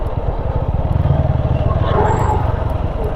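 Motorcycle engines rumble steadily and loudly in the parking area of a cattle market in Rangpur, forming a dense, continuous drone with faint voices mixed in.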